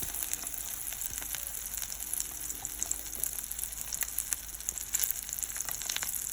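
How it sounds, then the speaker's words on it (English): Bread and toast frying in butter in a pan: a steady, close sizzle with scattered crackles and pops that runs the whole time, no voices. "add a little bit more butter in so that we can cook the small piece of bread as well as the other side of our toast"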